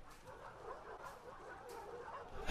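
A dog in The Last of Us Part II whimpering and yipping softly, a few short canine sounds over steady game ambience with no talking.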